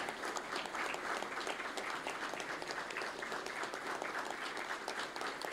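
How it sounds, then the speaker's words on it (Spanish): A minute of tribute applause from an association assembly audience honoring a deceased member, a steady, even patter of many hands clapping at moderate volume with no talk. "Vamos a tributar un minuto de aplausos a la memoria de ese gran hombre"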